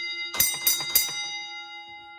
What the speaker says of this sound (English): We've got another bell here.